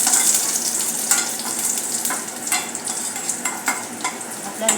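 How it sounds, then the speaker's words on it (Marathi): Finely chopped garlic cloves fry in hot oil, a bright continuous sizzle up close, with intermittent scraping stirs and small crackles as the garlic browns. Nobody talks. "बारीक बारीक कापून मी लसूण पाकळ्या घातलेल्या आहेत। आता याला आपण हलकेसे ब्राऊन होईपर्यंत याला"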